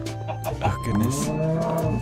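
A cow in a video game gives one drawn-out moo, heard loud and close over game background sounds.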